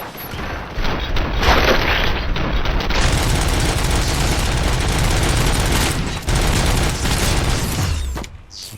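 Sustained automatic gunfire from RoboCop: Rogue City, a dense, loud fusillade of rapid shots with mechanical clatter running almost without a break, followed by a brief dropout and a final burst.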